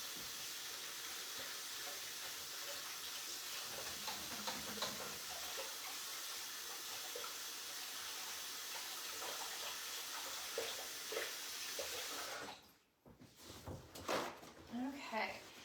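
Tap water runs steadily into a kitchen sink during hand washing, a broad continuous splash lasting several seconds before cutting off abruptly, followed by faint handling clatter.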